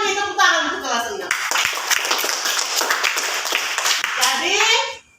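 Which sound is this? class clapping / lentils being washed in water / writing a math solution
class clapping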